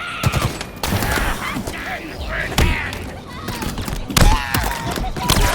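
Halo Infinite combat with rapid automatic weapon fire and heavy thumping shots, loud and close, mixed with explosive booms and clattering effects in a chaotic firefight.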